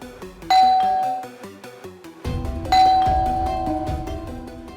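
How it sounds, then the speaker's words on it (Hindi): A doorbell chimes twice, each a bright ding-dong with ringing tones that fade out slowly, clear and close. "अभी थोड़ी देर में आपकी डोरबेल बजेगी"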